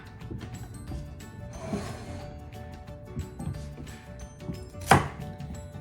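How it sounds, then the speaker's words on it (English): A knife chops through a stalk of celery on a cutting board for a chicken salad with dried cranberries, giving a series of soft, irregular close thuds and crunches with one sharper cut near the end. "going to chop this stalk of celery"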